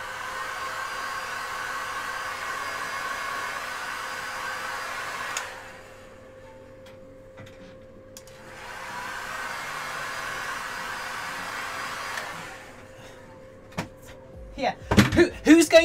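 A hair dryer blows on airbrush-painted fursuit eyes, giving two long bursts of steady whooshing air with a quiet pause between them. A flurry of close knocks and handling noises follows at the end.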